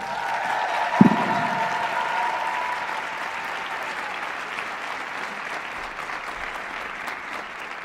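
Graduation audience applause at a multicultural celebration, a sharp burst that settles into steady, sustained clapping from a large crowd, fairly loud and continuous throughout.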